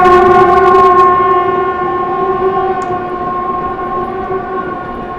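The 12033 Kanpur–New Delhi Shatabdi Express sounds a long, loud horn blast as it approaches, a steady sustained tone that begins strong and slowly eases off, close to the listener.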